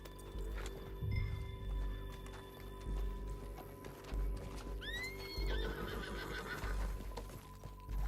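Horse hooves in the video game Red Dead Redemption 2 clip-clop in a steady rhythm alongside an occasional whinny, set against a quiet ambient background with a brief high bird-like chirp.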